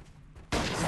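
A single loud gunshot in Jurassic Park: Trespasser cracks suddenly after a quiet moment and rings out to the end.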